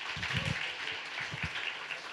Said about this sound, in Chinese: 我们再用热烈掌声欢迎我们的以乐